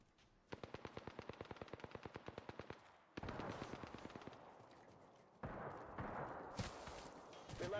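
Bursts of automatic gunfire in the battle royale game Apex Legends: a long, evenly spaced rapid-fire string of shots, then a denser second burst, then a third, each loud and close, with brief pauses between them.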